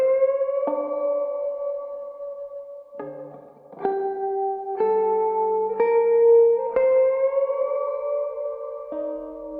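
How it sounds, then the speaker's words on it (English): Sustained synthesized tones change pitch in a slow melodic sequence, each note bathed in added reverb that leaves a smooth, echoing tail, loud and clear with no voices. "Now let's add this reverb and see if we can feel anything different."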